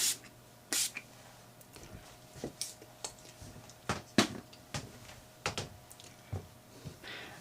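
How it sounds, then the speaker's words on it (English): A series of short, crisp spray bursts from a hand pump bottle, irregularly spaced, with quiet pauses between them. "Again, a little spray just to help it along."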